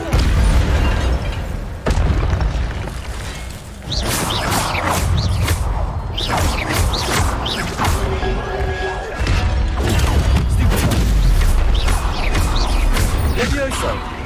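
Spell-casting effects from the Hogwarts Legacy video game, with the Incendio fire spell thrown among other spells. The clip holds dense, loud bursts, crashes and whooshing impacts that follow one another with hardly a pause, plus game voices now and then.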